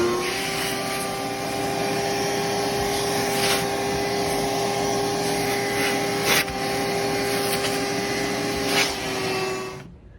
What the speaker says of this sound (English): Take your vacuum, turn it on.